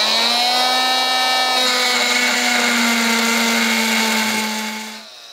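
An oscillating multi-tool fitted with a carbide-toothed blade cuts into an old piece of steel square tubing, giving a loud, close, steady high buzzing whine that holds for about five seconds before fading as the cut stops.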